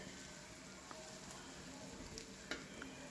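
Onions sautéing in a pan for a homestyle Kerala chicken curry, a soft steady sizzle with faint occasional stirring clicks, quiet and close.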